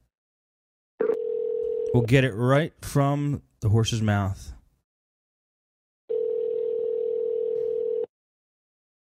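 A landline call rings out through a phone line: two long steady ringback tones, the first followed by someone talking briefly, then a gap before the second tone.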